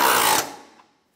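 A 12 millimeter bolt being driven tight with a power tool during A/C condenser replacement on a 2011-2016 Hyundai Elantra; a brief loud whirring burst that cuts off and fades quickly.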